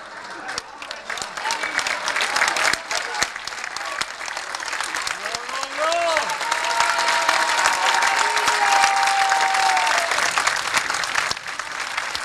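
A basketball crowd claps and cheers through a home game between Lab Falconstar and Oderzo, forming a steady, dense wall of applause that swells toward the end, with faint high squeals threading through it.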